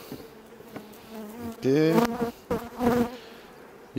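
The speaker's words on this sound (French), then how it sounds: "Il y a des abeilles sur la partoche." Honey bees buzz around a hive frame, a close, rising and falling drone with louder swells as bees pass near, and a person speaks a word.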